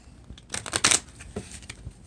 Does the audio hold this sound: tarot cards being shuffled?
yes